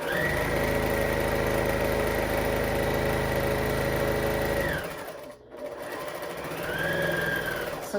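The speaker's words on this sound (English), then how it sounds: "We're going to sew all the way off." A sewing machine stitches a seam on a mobile device pillow, running at a steady, fast, close whir, then briefly stopping and starting up again.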